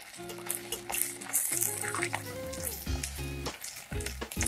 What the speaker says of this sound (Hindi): एक एक करके इसमें बॉल डालेंगे। एक होने के बाद दूसरा बॉल डालना है, क्योंकि एक दूसरे से चिपक ना जाए।